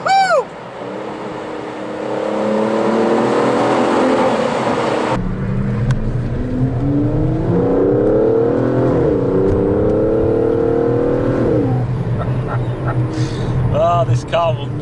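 Aston Martin DBS Superleggera Volante convertible V12 revving hard, rising and falling engine pitch in strong sweeps, with a cut after about five seconds and a person whooping near the end.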